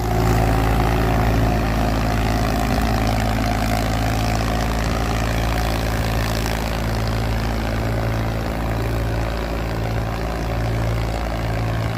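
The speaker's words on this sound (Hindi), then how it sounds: "तगड़ा रड़ा आ गया भाई ट्रैक्टर का, बहुत जोर लगा रहा भाई" An Indo Farm 3048 tractor strains while pulling a harrow. The engine's loud, steady low drone runs without a break from start to end, with no voices.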